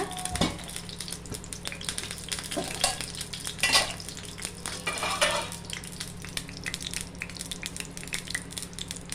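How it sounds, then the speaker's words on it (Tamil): Fennel seeds temper in hot oil in a pan for a goat intestine curry, making a steady close sizzle flecked with small crackles and pops, plus occasional utensil clinks, with a low hum underneath throughout. "நான் தாளிக்கிறேன் பாருங்க தாளிக்கு போட்டுறேன்"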